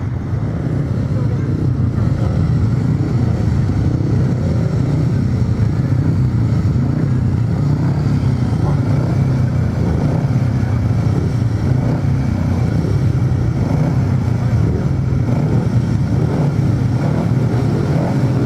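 Eight grasstrack racing motorcycles sit on the start line before race number nine at a British Masters grasstrack event, their engines droning loudly and continuously in a dense, rumbling roar close by.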